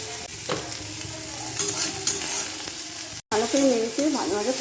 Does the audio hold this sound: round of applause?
no